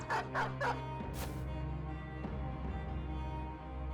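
A war dog in the Battle Brothers video game gives a few quick barks and yips early on, then a steady low game soundscape with hum and rumble continues without voices.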